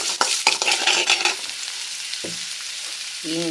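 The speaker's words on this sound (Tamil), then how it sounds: "இப்போ இது வதக்கிடுவேன். இதில் கருவேப்பிலை ஆட் பண்ணிக்கினேன்." Onions sauté in a pan with rock salt and curry leaves, starting with a burst of sizzling and scraping stirs, then settling into a quieter fry with a short tonal sound near the end.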